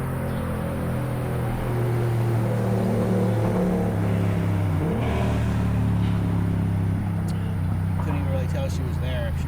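A Kawasaki KLR650 motorcycle cruises at highway speed with a passenger aboard, a steady low engine drone and wind rush that holds constant throughout, with no talking.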